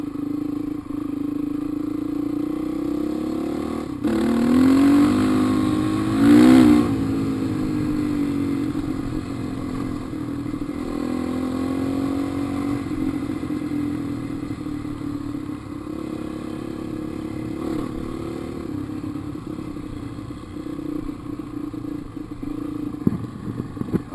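A dirt bike engine drones steadily while being ridden over rough ground, rising in a couple of brief revs near the start and otherwise holding a continuous mid-pitched roar with some clatter.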